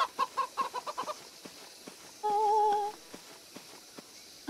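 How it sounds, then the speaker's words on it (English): Chickens in the video game The Church in the Darkness: a quick run of close clucks, then a drawn-out squawk, followed by scattered softer clucks and a final call. "Yep, just chickens. Bok, bok, bok, and all that."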